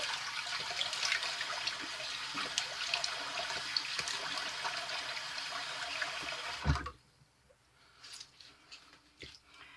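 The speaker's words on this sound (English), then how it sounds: "time to get rid of the warm water and do my cold water rinse" Warm water gurgles and rushes steadily down a sink drain for several seconds, then stops abruptly, leaving quiet with a few faint knocks.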